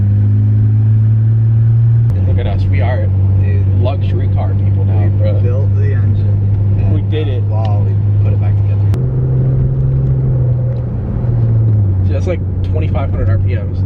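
A rebuilt Ford Taurus SHO engine drones loudly and steadily while driving, its pitch stepping up and down with gear and throttle changes, under frequent excited talk from the occupants.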